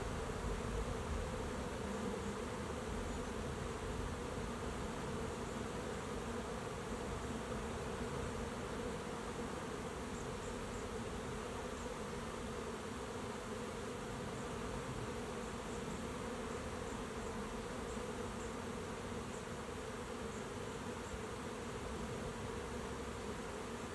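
Honey bees swarm into a swarm trap, a dense, continuous buzzing hum from many insects, steady and close throughout with no voices.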